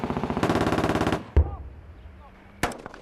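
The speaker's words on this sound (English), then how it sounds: "Throwing real grenades, firing live rounds, taking real risks on a pretty full-on training exercise in Kenya." Live rounds fired on a British military training exercise in Kenya: a rapid automatic burst of close, loud shots, then a single sharp crack, a quiet pause and another abrupt shot.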